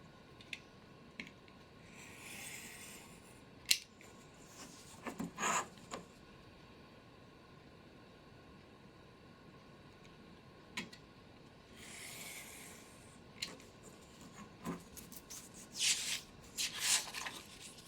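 Cutting out a triangular shape for a model blast door, faint scraping and snipping cuts in short scattered bursts with quiet pauses between them, close and soft.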